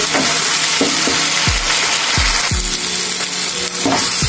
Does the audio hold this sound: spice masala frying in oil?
yes